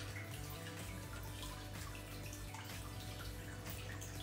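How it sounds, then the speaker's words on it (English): A turkey baster squirts water over aiptasia inside an aquarium, giving a steady wash of bubbling, splashing water with faint drips throughout, close and continuous. "you want to use a baster to sort of retract it and blow water all over it"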